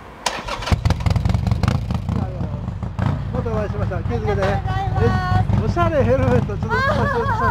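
A Harley-Davidson Sportster XL883N Iron 883 motorcycle idles and revs nearby, its loud, lumpy V-twin rumble rising and falling in short throttle blips after starting, alone without talk.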